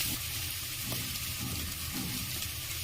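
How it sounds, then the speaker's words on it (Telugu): Chopped bottle gourd, carrot, drumstick and tomato pieces fry with ginger garlic paste for pappu charu, a dense, even sizzle with soft stirring strokes surfacing every half second or so. "తరిగి పెట్టుకున్న కూరగాయ ముక్కలు వేసుకున్నాం"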